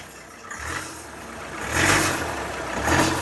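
A car engine revs up twice in short bursts over a steady idle, the surges rising then settling back.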